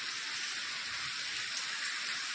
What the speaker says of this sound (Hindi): बहुत तेज बारिश हो रही है, देखो